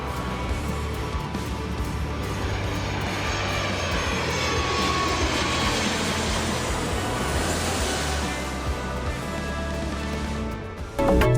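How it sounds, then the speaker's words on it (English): Jet engines of a South African Airways domestic flight roar steadily through the cabin during takeoff, a loud continuous rush that swells and holds, then settles slightly toward the end. "soon after the safety briefing, the plane took off"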